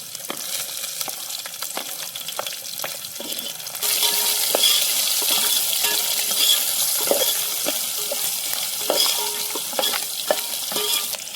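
Oil sizzles and frying crackles in a pot over a riverside campsite stove as khichdi rice is started, with scraping stir strokes; the sizzle grows louder partway through and continues steadily.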